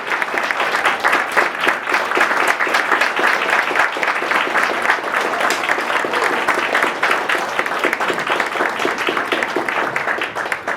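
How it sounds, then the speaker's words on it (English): Sustained, dense applause from a large audience at a Marine Corps recruit graduation at MCRD San Diego, honoring veterans; steady, loud and continuous throughout with no break. "a round of applause for their dedicated service to Corps and country"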